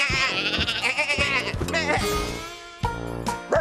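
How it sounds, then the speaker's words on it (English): Cartoon sheep bleat repeatedly in a farmyard, loud, wavering cries overlapping one another with little pause, ending in a couple of sharper bleats. "But Fee did see the sheep."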